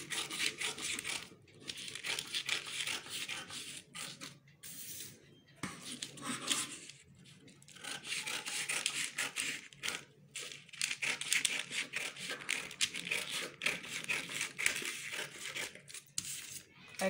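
Scissors cutting the front piece of an organza wrap top, a close, steady crisp snipping and fabric rustling that runs in long stretches separated by brief pauses.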